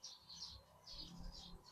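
Small bird chirping in short, bright bursts repeated about five times, faint and somewhat distant, with low rumbling background noise.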